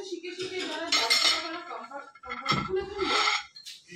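Plates and cutlery clatter at a dinner buffet, with bursts of clinking china and metal spoons close by, separated by a brief lull.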